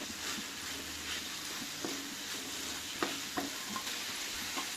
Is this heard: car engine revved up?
no